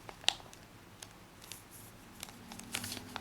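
Origami paper is folded along a diagonal crease, giving soft crinkles and light papery taps and scrapes. One sharp crackle comes early, then quieter rustling. The clip is close and faint, with no talk.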